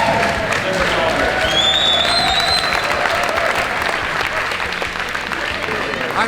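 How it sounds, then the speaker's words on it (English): A hall audience at the 2013 American Legion Boys Nation gives a warm round of applause for their new President: dense, steady clapping at full loudness for about six seconds, with crowd voices and a brief whistle-like tone mixed in. "Gentlemen, please give a warm round of applause for your new President."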